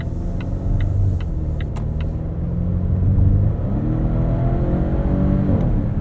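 A Volvo XC90 B6 with a 2-liter turbo engine and 8-speed automatic accelerating from inside the cabin, a loud steady engine drone rising in pitch, dropping at a quick gearshift and climbing again.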